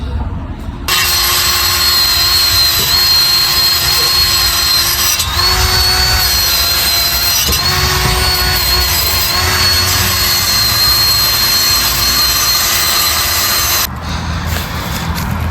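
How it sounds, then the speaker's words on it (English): A loud, steady power-tool whine drones for about thirteen seconds with a slightly wavering pitch as a wire brush scrubs an exhaust pipe on a 2008 Chevy Avalanche during an exhaust install, then cuts off abruptly. "I'm going to do some wire brushing"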